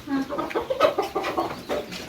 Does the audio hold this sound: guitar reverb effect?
no